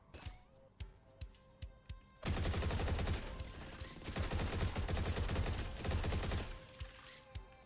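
Video game gunfire in Turbo Overkill: a few separate loud shots, then a dense, sustained barrage of rapid automatic fire for several seconds before it breaks off into scattered impacts.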